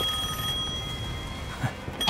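A telephone rings faintly in the video game Devil May Cry 5, a steady electronic trill under low background game ambience, with no speech.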